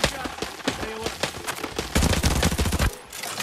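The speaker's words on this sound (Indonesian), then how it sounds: "Ada nembak." Rapid bursts of automatic gunfire and scattered shots from an Arena Breakout firefight, dense and loud throughout, with a heavier close volley near the end and players' voices mixed in.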